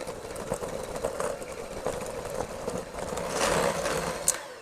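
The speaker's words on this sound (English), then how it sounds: "Now we're gonna mix this on medium speed until light and fluffy." An electric mixer creams butter with brown and white sugar at medium speed, a steady close motor whir with faint rhythmic beater clatter, alone and moderately quiet.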